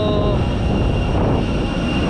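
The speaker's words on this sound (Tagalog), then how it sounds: "Ito yung aeroplano yan" A steady, loud airplane engine drone at an airport before boarding, a continuous broadband roar with a faint whine on top and no break.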